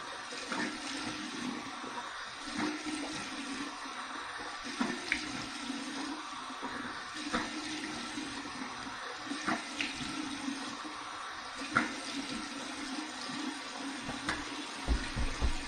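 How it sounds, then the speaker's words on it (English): Cold tap water runs in a sink for a rinse after a shave with an antique brass safety razor, a steady close splashing stream with small irregular splashes throughout. "cold water rinse."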